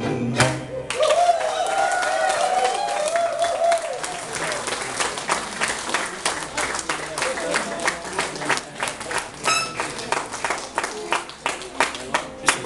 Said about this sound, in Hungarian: És akkor ne adják abba a tapsokat.